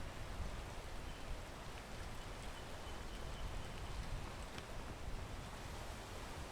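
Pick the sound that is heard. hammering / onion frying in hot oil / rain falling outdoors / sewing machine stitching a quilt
rain falling outdoors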